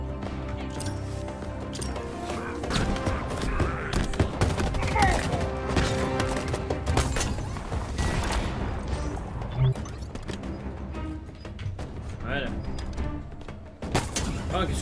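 Bursts of rapid assault rifle fire in Halo Infinite crackle through a dense mix of game sounds and music, with a voice talking over parts of it.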